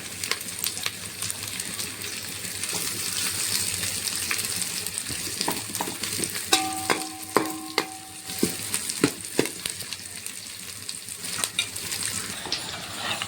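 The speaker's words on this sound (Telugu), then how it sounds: "మనం ఆనియన్ హై ఫ్లేమ్లో పెట్టి ఫ్రై చేసుకోవచ్చు" Onions fry on high flame in a pot for chicken pulao, a steady moderate sizzle with a run of spoon clinks and scrapes against the vessel in the latter half.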